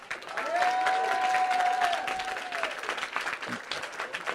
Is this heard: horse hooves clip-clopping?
no